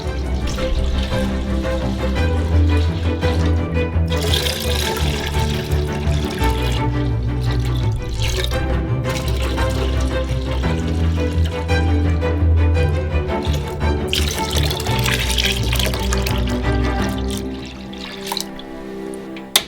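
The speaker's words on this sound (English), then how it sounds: "Pour 4 liters of homemade milk into a saucepan." Homemade milk pours from a container into a saucepan in a kitchen, a continuous loud splashing trickle that runs on with brief changes in flow and eases off near the end, with no talking.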